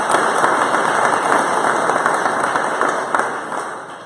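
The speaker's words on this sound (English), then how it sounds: "Please join me in a round of applause to thank them for their service." Applause from a banquet audience at a Zebulon Chamber of Commerce dinner: dense, sustained clapping from a roomful of people, loud and steady before easing slightly toward the end.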